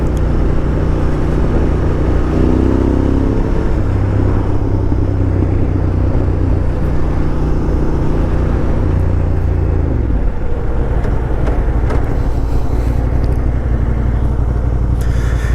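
Loud, steady wind roar and engine drone while riding a motorcycle on an Idaho road with the helmet visor cracked open, a constant rumble filling the whole stretch.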